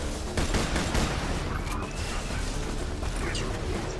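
Dense, rapid burst-fire gunfire in a video game, in short bursts with crashing impacts, loud and continuous, layered over other game noise.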